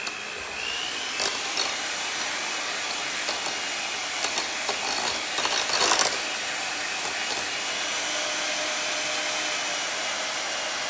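An electric hand mixer whirs steadily while mixing chocolate in a Polish pottery bowl, a continuous close, bright motor drone with brief rattling swells midway.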